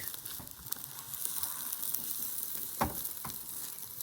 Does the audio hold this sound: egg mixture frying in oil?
yes